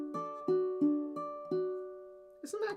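Ukulele fingerpicked in a pinch-touch pattern, five plucked notes ringing in a light, uneven rhythm, close and clear, with a brief scuffle of strings at the end and no talking.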